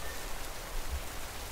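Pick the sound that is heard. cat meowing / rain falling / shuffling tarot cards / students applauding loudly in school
rain falling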